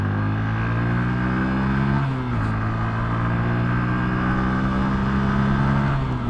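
A Honda CBF 125 motorbike accelerating in third gear, its steady droning engine heard close and loud as the pitch climbs, dips briefly at a shift and climbs again.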